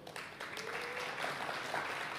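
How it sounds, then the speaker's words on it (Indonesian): Church congregation clapping during an Indonesian sermon, a soft, distant patter of applause that carries on steadily with a faint voice and tones mixed in. "Jangan tepuk tangan dulu"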